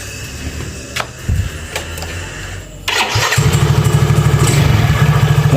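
A Yamaha Mio X Ride scooter with its air filter off and CVT cover removed is started after a few clicks, catching suddenly and settling into a loud, close, steady idle.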